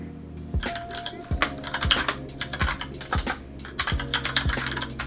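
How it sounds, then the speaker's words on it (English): Fingers type on an Epomaker RT100 mechanical keyboard, giving quiet, close clacking keystrokes in an irregular stream with occasional heavier thumps. "I'm gonna have a little type on this."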